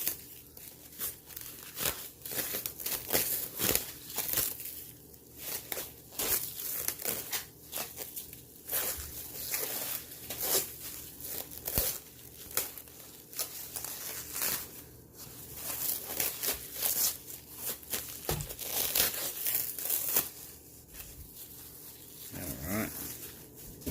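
Cellophane wrapping is crumpled and torn while a comic key is unboxed, giving dense, continuous close crackling and ripping noise with sharp bursts.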